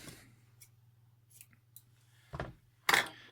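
Scissors snip through a piece of self-amalgamating rubber tape in two short, crisp cuts near the end, over a steady low hum and faint handling clicks.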